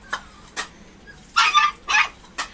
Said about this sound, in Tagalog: nag-iingay na rin si Snoopy